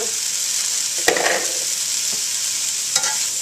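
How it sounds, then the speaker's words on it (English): Bean sprouts stir-frying in a wok, a bright continuous sizzle with a couple of clear scraping stirs of a utensil against the pan, close and loud. "put the bean sprouts in your wok and just cook it for about, I don't know, a minute or 2"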